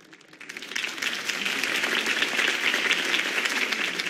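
Crowd applause at a political campaign rally after Harvey Dent's speech, dense clapping swelling up within half a second and holding steady and loud to the end, with no voices above it.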